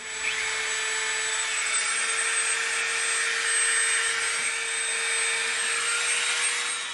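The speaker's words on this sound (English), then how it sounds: "we're going to come in with this thin Dremel bit and we're going to put a little rivet there" Dremel rotary tool with a thin bit carving a small rivet detail into EVA foam, a steady high-pitched motor whine running continuously at close range without talk.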